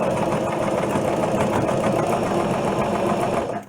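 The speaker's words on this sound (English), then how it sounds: "We're sewing." A sewing machine stitches a fabric face mask, running in one steady, close, continuous whir without pause before cutting off abruptly at the end.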